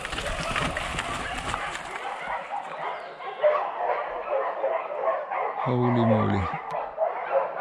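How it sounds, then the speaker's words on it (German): Several dogs bark and yip in the distance during a mountain bike ride with locals in Portugal, while riders talk and wind and trail noise run throughout. "Oh, ich hoffe, die Hunde sind eingezäunt"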